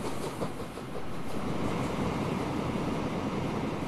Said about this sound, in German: Hier fährt doch eine alte Dampflok.